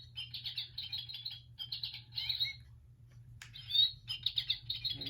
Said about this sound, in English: And we have American Goldfinch.